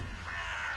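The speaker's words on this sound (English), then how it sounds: "Crows everywhere." A crow in the Darksiders II video game gives a single short, harsh caw, close and clear against a faint ambient background.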